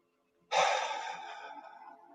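A single deep breath during a guided meditation: a sudden breathy rush that slowly fades like a long sigh, close and soft, with no voice.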